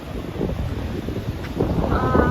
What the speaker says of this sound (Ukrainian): Зараз е, високі хвилі, тому що вітряно.